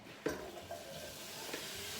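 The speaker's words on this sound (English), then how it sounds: "Oh yes, sizzle baby sizzle." Butter and lemon juice sizzle in a pan, a soft, steady frying hiss with a couple of faint clicks and stirring sounds, heard alone and fairly quiet.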